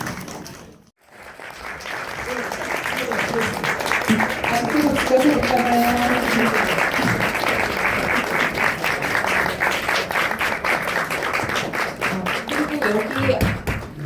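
Sustained, dense audience applause fills a film festival screening venue at Muju Sangol Film Festival, starting after a brief lull and continuing strongly for many seconds with no talk over it.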